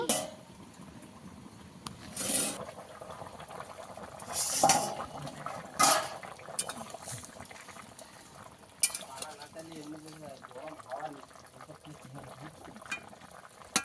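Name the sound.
covering and uncovering cooking pot with lid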